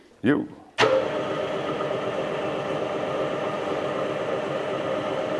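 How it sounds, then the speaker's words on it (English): A lathe machines material off the outside of the brake shoes from a 1973 Ducati 350 Desmo motorcycle, set to cut to a 180 mm diameter. Someone speaks briefly, then a steady close whirring hum and grind starts abruptly and runs evenly. "now we're going to take off the material until we get to that 180 millimeters in diameter on the outside of the brake shoes"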